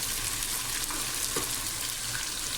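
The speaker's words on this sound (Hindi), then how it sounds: "अब हम कलर चेंज होने तक इसको अच्छी तरह से फ्राई करते हैं" Eggplant pieces fry in a pan with a constant, close crackling sizzle, broken by a couple of faint stirring taps, and nobody speaks.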